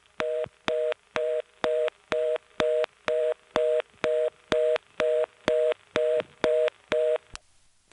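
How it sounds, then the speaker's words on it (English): Carolina Telephone trunk reorder tone coming from Greenville: a rapid, even series of about fourteen identical two-pitch beeps with short gaps, clean and steady, then it cuts off. "The reorder is triggered by my flashing that short flash on these trunks, and it is coming from Greenville."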